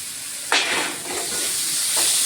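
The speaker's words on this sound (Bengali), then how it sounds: "মশলাটা ভাজা হয়ে গেছে, এখন আমি এখানে আলুগুলি দিয়ে দিচ্ছি।" Potatoes tipped into hot spiced oil in a home kitchen pan set off a sudden burst of sizzling that settles into a steady, close hiss, with a second brief flare near the end.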